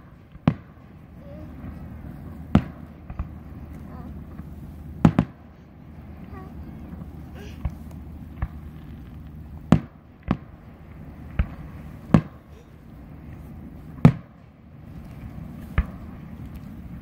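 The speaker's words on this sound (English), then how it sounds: "Watch the fireworks, baby." Fireworks go off outdoors as a series of sharp, irregularly spaced bangs and pops at mid distance, with a low rumbling background between the bursts.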